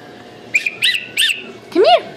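A small child blows a toy whistle in a few short, high tweets, followed by a longer warbling toot, heard close amid soft room noise.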